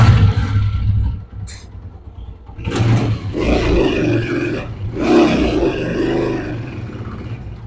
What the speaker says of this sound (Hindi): तो अब बाइक मैं स्टार्ट करके आपको चेक कराता हूँ।